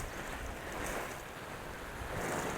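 A steady hiss of water spraying and pattering onto a camping tent, continuous and fairly soft throughout, with no talking.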